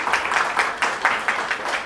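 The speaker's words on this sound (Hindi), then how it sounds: "तो जोरदार ताली बजाना चाहिए कि नहीं?" A live audience at a product demonstration in Nashik bursts into steady applause, a dense wash of many hands clapping with rhythmic swells, loud and unbroken with no talking over it.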